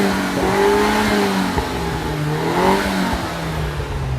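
A Mini Cooper Coupe's engine, steady and fairly close, with rising and falling harmonic tones as it revs in a couple of swells over a continuous rumble.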